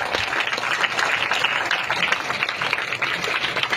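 Dense, continuous applause from a crowd, many hands clapping steadily and fairly loudly throughout with no clear voices.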